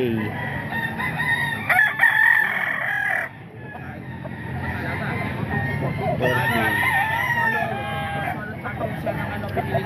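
Young gamecock stags crow loudly and repeatedly nearby, strained cock-a-doodle calls overlapping with clucks from other fowl, with some voices in the background.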